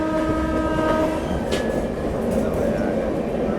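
A Jamnagar Bandra Humsafar Express passenger train running at speed, a steady loud rumble of wheels and carriages with a sustained horn tone over it, heard from on board.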